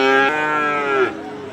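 Loud, close moo from a Sahiwal or Gir calf at a cattle market, one long harmonic call that slides downward before fading into quieter background noise.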